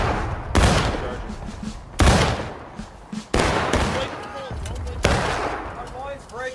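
Musket fire in War of Rights, an American Civil War infantry battle, with a line firing independently: four or five loud, sharp reports spaced about every second or two, each trailing into rolling echo, with shouting voices between.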